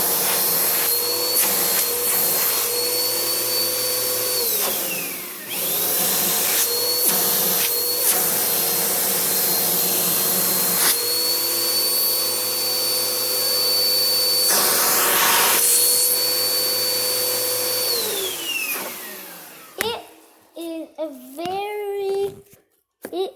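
A Bissell bagged vacuum cleaner whines loudly at close range during a suction test, its steady motor tone dipping and rising as airflow is blocked and released, then winding down to silence near the end.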